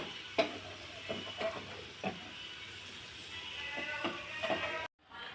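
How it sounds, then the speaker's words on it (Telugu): Onions fry with a steady sizzle in a pan for a biryani, a spoon stirring and scraping them in repeated knocks before the sound cuts off abruptly near the end. "ఇలా కలర్ వచ్చేంత వరకు వేయించుకొని తీసి పక్కకు పెట్టుకోవాలండి ప్లేట్లో"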